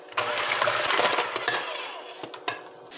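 Eggs mixed into peanut butter cookie dough in a bowl, a brief burst of rapid clattering and scraping from a utensil against the bowl, close and continuous before tapering off with a couple of knocks.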